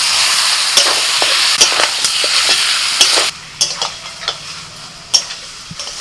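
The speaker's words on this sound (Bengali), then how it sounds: "এই ম্যারিনেট করা চিকেন দিয়ে দিচ্ছি।" Marinated chicken added to a pan of fried onions and spices, a loud close sizzle with repeated spatula scrapes and taps, the hiss dropping sharply partway and continuing softer under intermittent stirring clicks.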